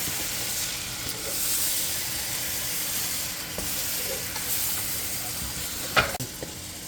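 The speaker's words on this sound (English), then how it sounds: "So these are my puree onions that I'm adding." Pureed onions sizzle steadily in a pot for a cassava leaf stew, a constant close frying hiss with faint scraping and a sharper crackle near the end.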